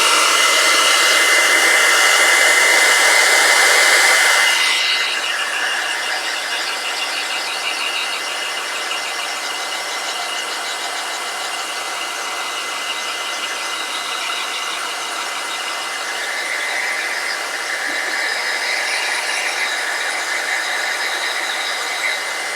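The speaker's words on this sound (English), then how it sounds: "I'm going to hit him with the hairdryer for one more second" A hair dryer blows hard on a freshly painted Obliterator miniature, a loud steady whirring roar that drops to a lower, quieter hum after about five seconds and continues evenly to the end.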